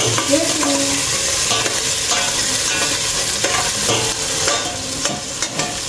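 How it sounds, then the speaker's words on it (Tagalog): Food for ducks is stirred in a hot pan, with steady scraping strokes over a constant loud sizzle and occasional clinks of utensil against metal. "Halu-haluin lang natin konti."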